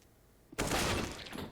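A P250 pistol fires in a professional Counter-Strike match between Team Vitality and Virtus.Pro, a sharp, loud gunfire burst that breaks a quiet moment and rings out before a second crack at the end.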